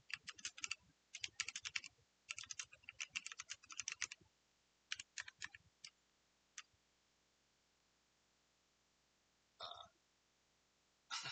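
Quick bursts of clicking keystrokes on a computer keyboard, typed in short irregular runs with pauses between, close and fairly quiet.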